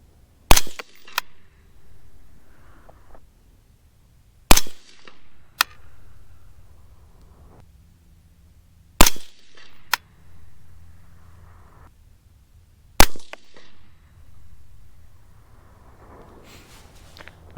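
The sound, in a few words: 223 Remington rifle firing 53g V-Max H322 loads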